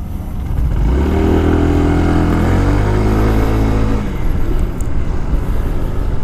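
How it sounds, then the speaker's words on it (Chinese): A SYM FNX125 125cc scooter engine restarts from idle stop and pulls away, its loud, close note rising for a few seconds before settling into steady road and wind noise. "那我现在再度起步。"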